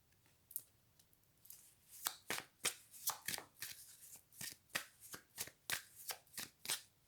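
Tarot cards being shuffled by hand close up, a run of crisp riffling bursts and soft slaps that grow busier and louder, with no talking.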